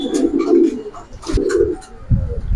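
Giribaz pigeons coo up close in a pigeon keeper's loft, giving several soft, throaty coos in quick succession with short gaps.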